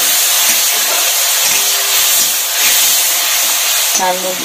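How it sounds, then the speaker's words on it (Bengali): Radish ghonto sautés in a pan with a loud, continuous steamy hiss and sizzle, and occasional soft stirring movements. A brief tonal beep-like sound comes in at the very end. "এখন এটাকে একটু কষাতে হবে।"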